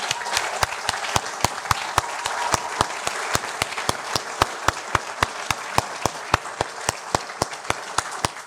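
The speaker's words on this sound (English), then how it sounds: "Let's give him a big round of applause." Audience applause at a safety council annual awards meeting, a steady wash of many hands clapping with sharp regular transients, sustained and fairly loud throughout with no talk.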